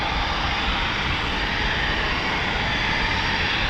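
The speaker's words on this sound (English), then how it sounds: "You can hear the startups there. Lovely. That's the EJ200 engines" Eurofighter Typhoon FGR4 with twin EJ200 jet engines starting up at an air base, a steady, loud, continuous roar and whine that holds constant throughout with no voices.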